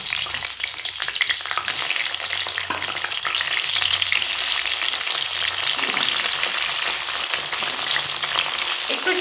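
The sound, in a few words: pointed gourd (potol) frying in refined oil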